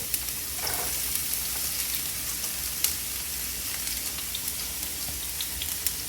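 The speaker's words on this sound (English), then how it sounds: "You hear that sizzle" Red onions sizzle in hot oil with a steady crackling hiss and scattered pops, with no voices over it.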